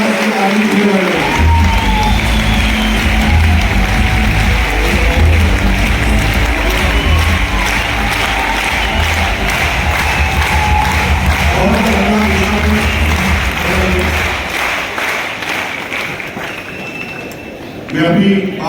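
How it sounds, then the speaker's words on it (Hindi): Crowd at a business sales seminar claps and cheers over a thumping beat of music, the dense applause sustained for a long stretch before thinning out near the end, with a voice briefly heard. "ये म्यूजिक वाला शुरू करना से ताली शुरू कर रहे हैं।"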